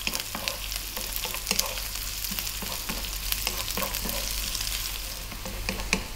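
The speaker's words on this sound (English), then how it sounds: "And then we're gonna go in with the onion and the chili." Onion and chili fry over medium heat for Tamil black pepper chicken curry, a steady close sizzle with scattered sharper crackles and stirring scrapes throughout, alone without speech.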